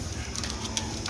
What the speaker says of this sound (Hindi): ऐ नज़र मारो कबूतर।